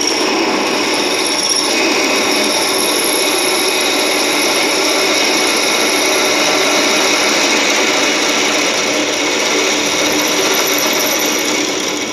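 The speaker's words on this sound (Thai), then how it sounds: "การเจาะ มันต้องใช้น้ำหล่อลื่นเพื่อให้ มันเจาะได้ง่ายขึ้น" A power drill bores through metal with lubricant in a welding and metalwork workshop, giving a steady, loud, continuous whine and grinding hiss that holds without a break, with no talking.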